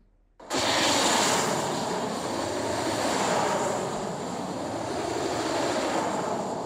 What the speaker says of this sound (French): ça a l'air d'être un bruit de chalumeau en fait